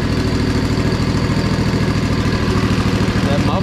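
A zero turn mower engine with a very quiet muffler runs at a steady idle, a close, even, pulsing drone throughout with no talk.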